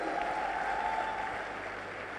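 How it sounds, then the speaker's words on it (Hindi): An indoor audience at a motivational business event applauds, a dense, steady wash of clapping that holds for about two seconds and eases slightly at the end. "एक बहुत जोरदार तालियां बजाइए उनके लिए।"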